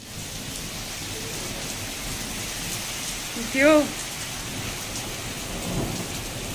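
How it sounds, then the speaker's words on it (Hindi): Heavy rain pours steadily in a hill-town home setting, a dense close hiss of drops on surfaces with low thunder rumbling beneath, while a voice briefly speaks over it. "तो बहुत बहुत ज़्यादा तेज बारिश हो रही है"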